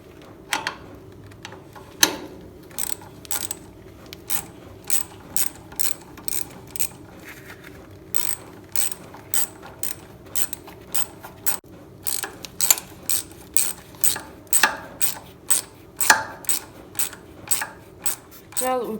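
A ratchet wrench clicks in repeated bursts while backing out belt guard bolts on a 1976 Bolens G12 garden tractor, close and fairly loud, with steady rhythmic strokes throughout.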